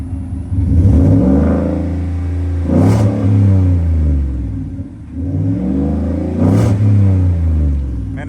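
A Ford F-150 with an MBRP dual rear exit exhaust revs up twice from idle, each rise a loud, close, deep swell of engine and exhaust that climbs in pitch and falls back before holding a steady rumble.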